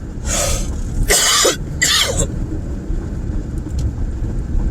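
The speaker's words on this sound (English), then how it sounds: "I'm still having ongoing, lingering cough. So I'm going to cough." Someone with lingering bronchitis lets out three harsh, close coughs in quick succession, followed by a quieter stretch of low background rumble.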